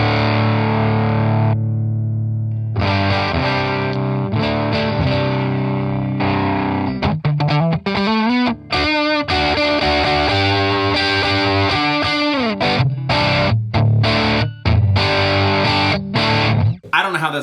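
An electric guitar runs through a Line 6 Helix blended amp preset with a deluxe compressor set to a quick attack. It is loud and distorted, with held chords giving way to choppy, palm-muted staccato riffing and abrupt stops.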